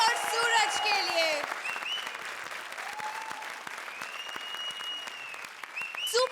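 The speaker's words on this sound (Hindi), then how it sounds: "जोरदार तालियां वीआईपी और सूरज के लिए." Studio audience applause on a Hindi television comedy show, a steady, loud wash of clapping that fills the whole stretch, with musical tones and some voice sounds layered over it.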